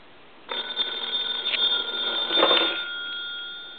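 A bell installed in a converted A&E three-slot payphone gives a single ringing burst of about two seconds, a close, steady metallic jangle that stops abruptly and leaves quiet behind.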